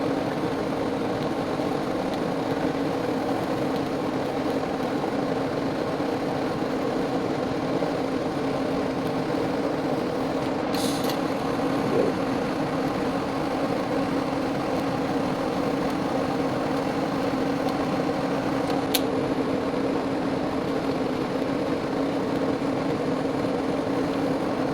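TIG welding of small tube end caps for custom off-road rock sliders gives a steady, even electric buzz with a hiss. It runs unbroken throughout, and two brief sharp ticks stand out partway through.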